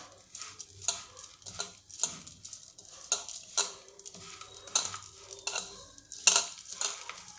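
Metkut is stirred into bhatta frying in a pan: a spoon scrapes and knocks rhythmically against the pan over a low sizzle, close and alone with no voices.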